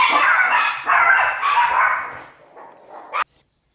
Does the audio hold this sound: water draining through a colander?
no